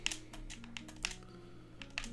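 Quick, light clicks of typing on a computer keyboard, close and fairly faint, in short irregular bursts of keystrokes over a low steady hum with no talk.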